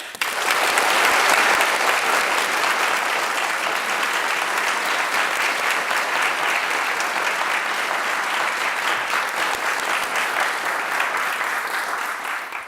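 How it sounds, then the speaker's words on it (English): A large audience at a Nobel Prize laureates' event in Stockholm claps loudly and steadily, with dense, even applause that carries on throughout and tapers slightly at the end. "let's just give them a really big round of applause"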